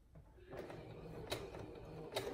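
A sewing machine stitching straight across fabric for a mini market bag, a steady close whirring hum under a soft mechanical rattle, with brief clicks near the middle and end.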